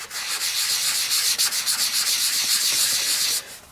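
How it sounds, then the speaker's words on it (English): Ink sponged onto shimmery white cardstock makes a steady, close scratchy rubbing that runs continuously for several seconds with small fluctuations, then stops abruptly, with no talking. "First I'm going to sponge the cardstock, the shimmery white cardstock."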